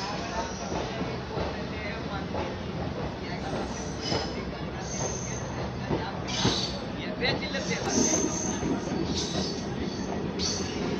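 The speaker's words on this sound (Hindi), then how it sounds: "बांका जंक्शन से अपने ट्रेन का डिपार्चर हो चुका है" A passenger train departing Banka Junction rumbles and clatters steadily along the rails, with wheel noise and occasional squeals rising and falling, while someone talks over the continuous running sound.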